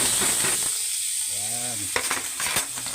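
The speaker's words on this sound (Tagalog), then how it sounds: "Lagay na natin tong sibuyas at bawang." Onion and garlic hitting a hot pan, giving a bright, steady sizzle and hiss that carries throughout, broken by a short voice partway and a few clinks near the end.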